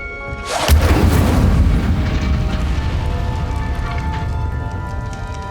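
An Incendio fire spell cast in Hogwarts Legacy bursts into a loud, sudden whoosh and boom, then settles into a crackling, roaring fire that fades over several seconds.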